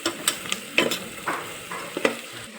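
Gram flour frying in a pan with red chili, turmeric and onion-garlic masala is stirred, giving scattered scraping and clinking strokes over a soft sizzle, close and moderately loud, with no talk.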